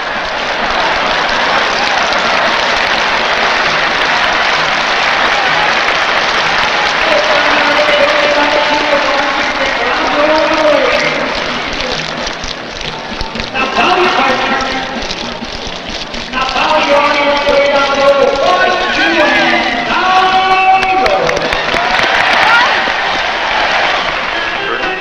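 Applause from an audience at a square dance convention, a sustained dense patter of clapping that dips briefly midway and then swells again, with crowd voices and calls mixed in throughout.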